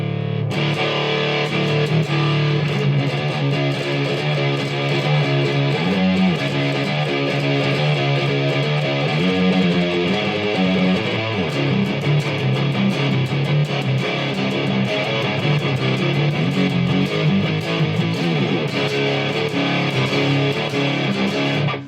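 Electric guitar through a Behringer OD300 overdrive pedal in distortion mode plays a steady, sustained passage with thick distortion, loud and continuous throughout with no voices.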